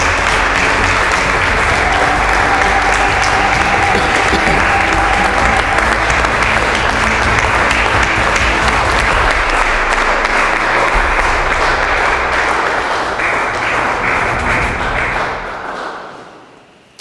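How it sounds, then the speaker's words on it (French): A studio audience in a church-style hall applauds a pastor being welcomed, with loud, dense, continuous clapping that holds steady before fading out at the end. "le pasteur Jean-Claude Milandou Boulacho sous vos applaudissements, je vous en prie."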